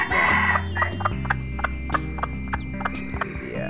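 A jungle fowl hen clucks in a cage inside a broiler house, a series of short, sharp clucks in an uneven rhythm following a louder, sustained call at the start.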